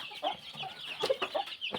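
A junglefowl chicken clucks repeatedly in short, quick bursts, close by and fairly clear, with no talking.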